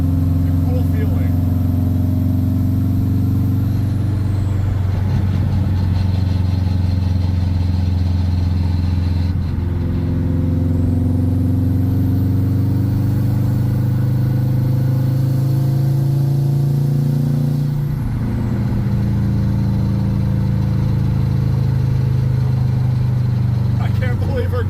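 Engine of a finished drift car humming steadily and close while driving in gear, a smooth low drone with slight pitch shifts, and people talking over it throughout.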